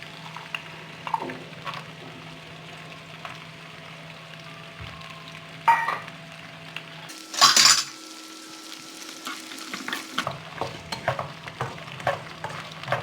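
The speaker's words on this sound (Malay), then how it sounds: "Saya goreng kacang tanah sehingga dia garing." Peanuts fry in a little oil in a heated wok, a soft steady sizzle running throughout, broken by occasional louder stirring and scraping clatter from a utensil, with no one speaking.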